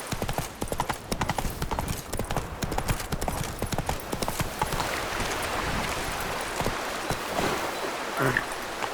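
Hooves of Roach, the horse in the video game The Witcher 3: Wild Hunt, clip-clopping in a fast galloping rhythm, close and prominent, softening toward the end over a steady rushing wash like rain or running water.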